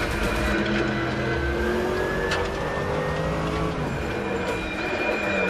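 A Mercedes-AMG GT3 race car engine drones steadily and loud in the RaceRoom racing game, holding a continuous roar with gradually rising tonal whine, close and unbroken for the whole stretch with no talking.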